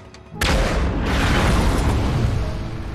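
Massive explosion as a German Panzer tank is destroyed in a war film, a sudden loud boom after a brief quiet moment that swells into a sustained, roaring blast and rumble lasting several seconds.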